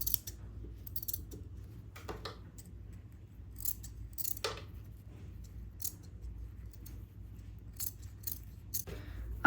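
Scissors snip an extra fabric strip off a blouse being sewn, giving a series of quiet, sharp, irregular cuts close by over a low steady hum.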